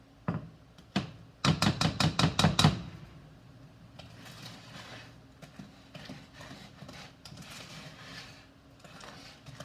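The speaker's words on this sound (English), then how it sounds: "You might want to pick up the bowl and just keep turning." Brownie batter worked in a bowl, beginning with a fast run of about eight sharp knocking clatters of utensil against bowl, followed by softer, scattered scraping and tapping sounds.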